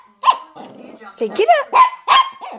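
A Chihuahua barks in short yaps several times while a person speaks over it, the dog close and fairly loud between the spoken phrases.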